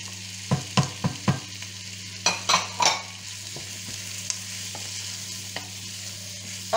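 Carrots tumble into a frying pan for a lentil and salt-pork dish: a few quick utensil knocks, then a soft, faint sizzle over a constant low hum.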